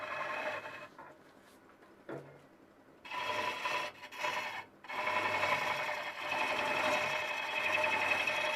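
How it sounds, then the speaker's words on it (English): A hollowing tool cuts into spinning walnut on a wood lathe, giving a steady close scraping, rasping hiss that breaks off briefly twice and then runs on continuously. "this walnut is cutting really nicely"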